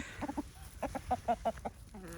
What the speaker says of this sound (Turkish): İki haftadan sonra yine tavuklarımızla buluştuk.